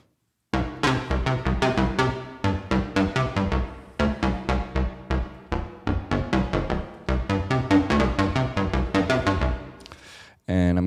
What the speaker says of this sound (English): I'm gonna start with the bass sound,